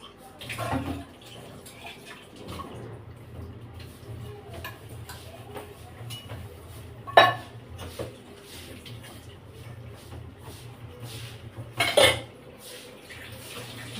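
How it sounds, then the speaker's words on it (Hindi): Dishes, pots and utensils being washed by hand with water in a home kitchen: a low steady hum underneath, with soft clinks and two sharp clatters of metal or crockery. "तो मैं कर लेती हूँ जल्दी बर्तन"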